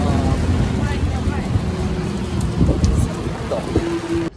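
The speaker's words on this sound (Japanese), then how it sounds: "急に雨降ってきた" A sudden heavy downpour in Yokohama roars as a dense, loud, continuous wash of noise close by, with a voice briefly heard over it.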